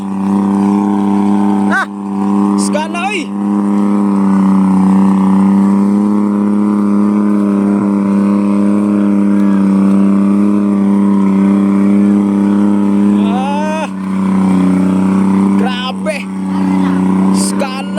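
A loud 4x4 engine roars and strains steadily close by on a slippery road, its pitch rising and falling, with occasional shouts and voices over it.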